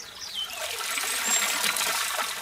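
Water trickles and drips from wet leaves lifted out of a koi pond, a steady, close splashing patter lasting a couple of seconds with no talking.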